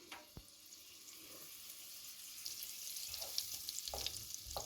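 A soft, steady sizzle of olive oil and butter heating in a hot pan, faint and continuous with a few brief crackles and clinks, no voices.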